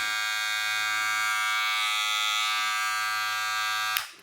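A loud electric hair clipper, one of a BaByliss LoPROFX or JRL 2020C, buzzes steadily with a dense harmonic whine for about four seconds, then cuts off abruptly near the end.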